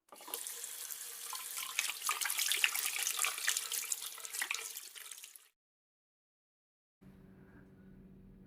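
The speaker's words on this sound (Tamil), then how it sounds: "பிரதீப் நான் போய் ஃபேஸ் வாஷ் பண்ணிட்டு வரேன" A water tap runs into a sink while someone washes their face, a steady close splashing stream for about five seconds that stops abruptly, followed by a short silence and a faint low hum.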